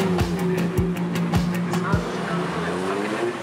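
Race car engine idling steadily at the start of a Gran Turismo real-life race in Japan, with sharp periodic clicks over the low drone and voices counting down beneath.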